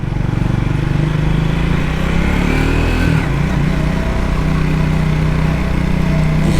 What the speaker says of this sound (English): this is a nice little motorcycle. And the engine is so full of character and makes all the right noises